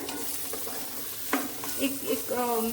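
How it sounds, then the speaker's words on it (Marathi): Beans and potatoes are sautéed in oil for a Konkani beans upkari, a soft, steady sizzle broken by a few spoon scrapes and stirs against the pan. "तातूंत शिंदून दवरिल्ली बीन्स आणि बटाट घाल्या. जर अशी तेला भितर परतून घेऊया"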